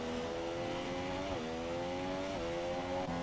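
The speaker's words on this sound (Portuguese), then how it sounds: "Delúzio vem aí com a sua Williams, você escutando o barulho do motor do carro dele aí" Williams Formula 1 car engine in a racing video game at the Russia Grand Prix, a continuous high whine that shifts pitch with each gear change and throttle lift, steady and close.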